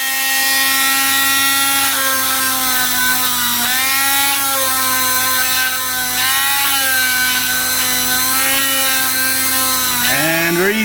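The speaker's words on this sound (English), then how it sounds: "Right, Dremel time." A Dremel rotary tool grinds on the steering shaft of an International 434 tractor, a loud, high, continuous whine that wavers slightly in pitch as it bears on the metal, ending with a brief rising spin.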